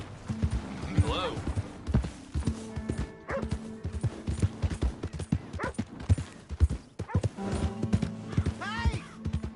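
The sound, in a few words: horse hooves clip-clop, video game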